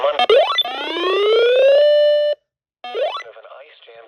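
Emergency alert warning tones on a broadcast, a rising electronic sweep settling into a loud steady tone, a brief silence, then a second rising sweep, with muffled speech-like sounds mixed in.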